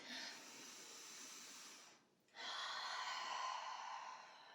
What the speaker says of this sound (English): inhales through the nose during our movement and exhales through the mouth. Nice, big, long, deep, loud breaths